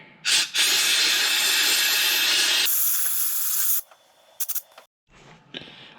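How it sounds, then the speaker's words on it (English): A blast of compressed air sprays loudly into a snowblower carburetor jet, a close, steady hiss lasting a few seconds before cutting off, followed by a few short puffs and bursts. "And spray him down with some compressed air."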